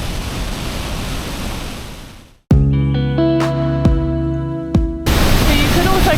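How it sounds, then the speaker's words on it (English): A big waterfall in Baños, Ecuador roars as a loud, steady wash of noise, broken midway by a few seconds of ringing, tonal electronic sounds before the roar returns. "big waterfall"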